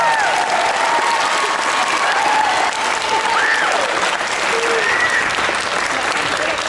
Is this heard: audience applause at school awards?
yes